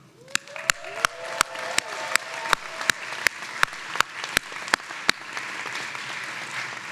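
A commencement crowd at the 2023 Northeastern University San Francisco and Silicon Valley ceremony applauds engineering master's graduates. The applause is a broad wash, with sharp, evenly spaced claps from one nearby person cutting through, then it thins toward the end.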